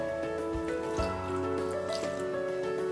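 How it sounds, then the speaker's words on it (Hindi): Water trickles and drips steadily into a blender jar holding chopped green chilies, with a low background hum and a couple of soft knocks. "थोड़ा सा पानी डालेंगे,"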